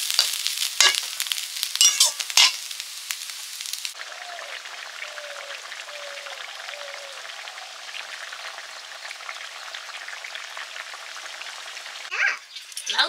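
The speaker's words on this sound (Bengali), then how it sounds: "ভাজাটা ধীরে ধীরেই করছি" Bottle gourd peel fries slowly in a pan with a soft, even sizzling hiss that runs steadily for several seconds, preceded by a few sharp clatters and clicks from handling the cookware.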